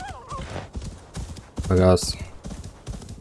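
Rhythmic hoofbeats of a galloping horse in Assassin's Creed Valhalla with a brief whinny, under close, excited talking.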